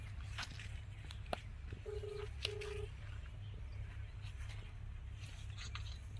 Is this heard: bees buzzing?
no